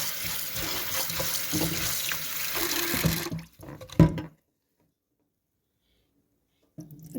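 Tap water runs steadily into a bowl while sabudana tapioca pearls are washed, a close continuous rushing splash that stops abruptly, followed by a brief clatter and then near silence.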